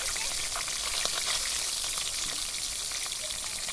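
Rohu fish pieces frying in hot oil in a pan make a steady, close sizzling hiss with crackling pops running throughout, with no talking.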